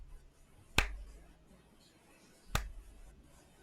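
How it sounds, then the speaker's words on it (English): Two sharp, isolated claps spaced almost two seconds apart in a slow, deliberate rhythm, fairly faint against a quiet background. "slow clap."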